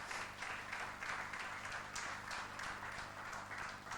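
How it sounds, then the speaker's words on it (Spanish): Congregational applause during a church service, a steady wash of many hands clapping at moderate distance, continuous and even throughout with a faint rhythmic background underneath. "dale fuerte el aplauso al Señor."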